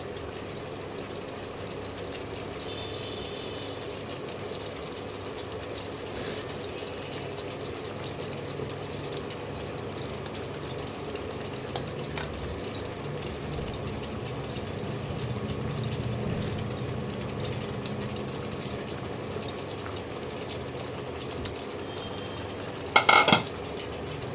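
Pointed gourd and paneer pieces go into a boiling pan of gravy on an induction cooktop, under a steady low hiss and bubbling, with a sharp metallic clatter of utensil against pan near the end.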